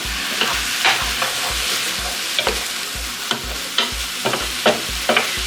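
Courgettes and other vegetables simmering in tomato sauce for a veggie passata, with a steady bubbling sizzle and repeated scraping stirs of a spoon across the pan at a close, moderate level, no voices.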